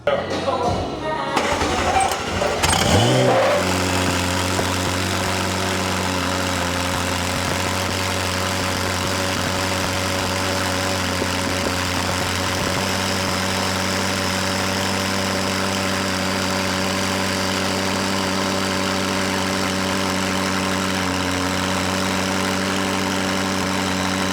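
A McLaren 600LT's 3.8-liter twin-turbo V8 fires up with a brief rev, then settles into a steady, loud, rumbling idle that continues for the rest of the clip.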